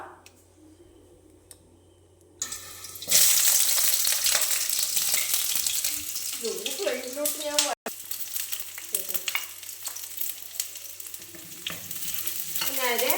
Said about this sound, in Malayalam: ഈ ഓയിലൊന്ന് ചൂടായി വരുമ്പോൾ നമ്മൾ ഇതിനകത്തോട്ട് സവോള ഇട്ട് കൊടുക്കാം